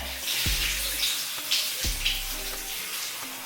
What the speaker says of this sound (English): I'm gonna go ahead and start wetting the front